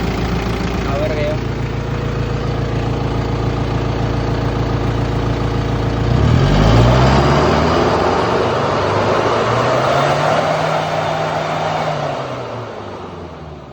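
The engine of a reconditioned Kia Bongo 3 4x4 truck runs steadily with a low, continuous hum. A rev sweep rises midway, then the engine fades slightly toward the end, with talk underneath.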